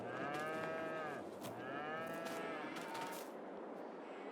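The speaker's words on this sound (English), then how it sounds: "Oh man, look at all these cows." Several cows mooing inside a barn in Farming Simulator 22, long drawn-out calls overlapping one another, fairly loud and close, with no talking.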